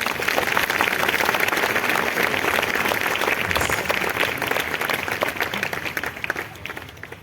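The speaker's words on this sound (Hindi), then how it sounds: "आइए हम इस संगठन के लिए एक जोरदार ताली बजाएं।" A church meeting audience gives a long, dense round of clapping that stays loud and even through most of the stretch, then thins out and fades toward the end.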